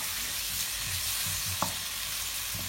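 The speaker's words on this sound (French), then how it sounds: "Donc, on laisse cuire les oignons." Two onions sizzle in a pan for pilau rice, a steady soft crackle of frying with a few light stirring scrapes and one sharp clink, heard alone without talk.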